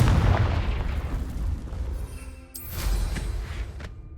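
A fire spell explodes in the Hogwarts Legacy video game, a heavy booming blast that rumbles and decays, followed by a second crackling burst with sharp high debris-like snaps, loud and close, with no speech.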